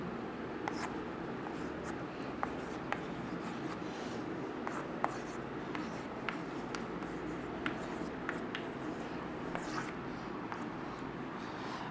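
Writing on a board during a chemistry lesson, a series of faint scratchy marker or chalk strokes and light taps scattered over a steady room hum, with no talking.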